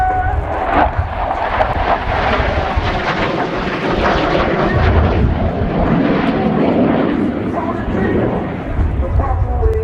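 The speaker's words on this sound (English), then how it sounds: "From your left, the F-16 and the knife edge pass." An F-16 Viper fighter jet makes a knife edge pass at the RIAT air display, giving a loud, continuous roar that swells and rumbles throughout, with an announcer talking over it.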